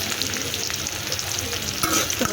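Onions and green chilies frying in a pan for bottle gourd fry, a steady loud sizzle with occasional spatula scrapes near the end.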